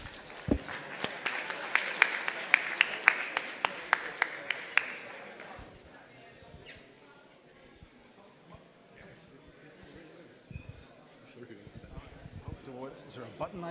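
An audience at a blockchain and AI meetup claps to welcome a speaker, a few seconds of scattered hand claps in a room that fade out, followed by someone talking into a microphone.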